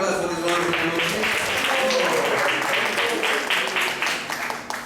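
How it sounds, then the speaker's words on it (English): Audience at a Sunday ISKCON temple class applauds a visiting group, sustained loud clapping mixed with voices that fades slightly at the end. "Let me give a round of applause for this wonderful group."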